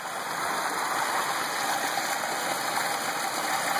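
Water pours steadily over the spillway of a small pond dam fed by a drainage ditch, a loud, continuous rushing wash heard up close with no voices.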